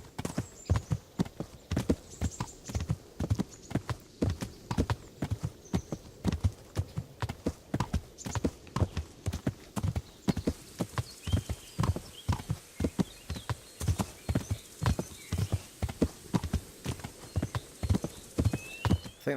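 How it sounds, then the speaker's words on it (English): A horse walks along a path in the video game Kingdom Come: Deliverance, its hooves producing a steady, even clip-clop. The beat runs unbroken for the whole stretch, close and clear, with no talk over it. "the horse seems to be following the path, so I'm not guiding it at all"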